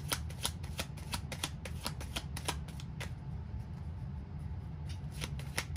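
Tarot cards are shuffled by hand in a steady series of crisp, riffling flicks and slaps, close and fairly loud, thinning out briefly midway before picking up again, with no talking.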